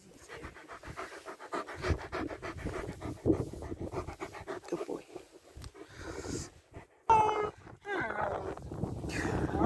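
A dog pants rapidly and rhythmically up close, quick breathy huffs continuing throughout, with a few brief sounds and movement near the end.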